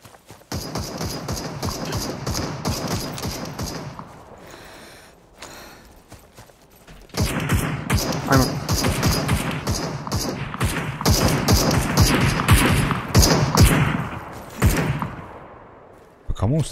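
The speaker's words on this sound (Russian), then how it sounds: "Где-то там какая-то стрельба" Bursts of gunfire in the battle royale shooter Super People, a rapid train of sharp cracks under steady squad talk, pausing briefly in the middle before resuming loudly.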